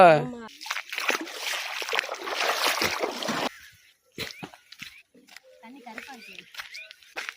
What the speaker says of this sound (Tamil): அழுக்கு துணி துவைக்க போறேன்.